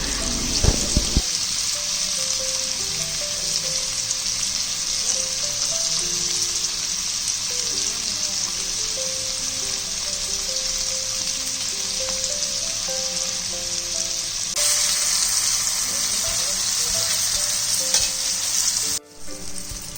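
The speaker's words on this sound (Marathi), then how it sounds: "आता मी मच्छी फ्राय करून घेते हलवा मच्छी आणलेली ती" Halwa pomfret fish fries in a pan with a loud, continuous close-up sizzle and crackle throughout, brief knocks near the start and a short dip near the end, with no talking.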